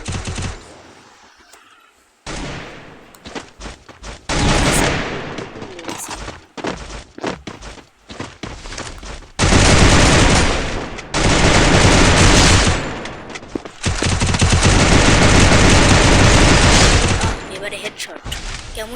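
Gunfire in a shooter video game, with repeated bursts of rapid shots, loud and close, alternating with quieter gaps, and someone talking over parts of it.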